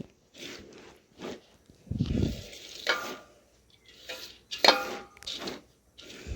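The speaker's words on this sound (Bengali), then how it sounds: "চালটা মাঝখানে এইভাবে আবারও বেশ কিছুক্ষণ নাড়াচাড়া করে দিতে হবে" Rice for puffed rice is stirred in a pan, giving soft, irregular scraping and rustling strokes with faint sizzling, fairly quiet and close.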